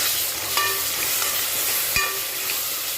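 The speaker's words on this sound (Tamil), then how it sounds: "இஞ்சி பூண்டு பேஸ்ட்டு நல்லா பச்சை வாசனை போகிற அளவுக்கு நல்லா வதக்கிக்கலாம்" Loud, steady sizzling of ginger garlic paste sautéing in a hot pan for mutton biryani, with a couple of sharp clinks as it is stirred.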